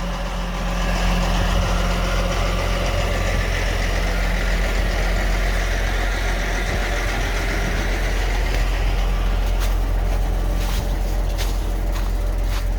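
A massive off-road truck engine idles with a deep, steady rumble on Iceland's Langjökull glacier, loud and close, holding constant throughout with a few faint clicks near the end.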